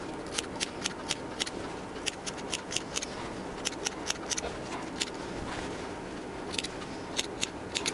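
Scissors snip a series of short slits into the fabric of a sleeve, working close to the corner without cutting the stitching. Crisp, quiet clicks come in uneven clusters over a soft background hiss.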